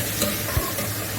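Onions, crushed ginger and garlic with green chillies sautéing in a pan for a country chicken curry, a steady sizzle with stirring scrapes and one brief clunk near the middle.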